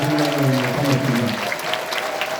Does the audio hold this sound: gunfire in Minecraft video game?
no